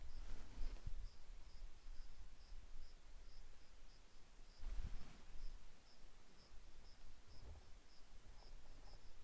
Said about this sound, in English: All you can hear is crickets and the sound of grass.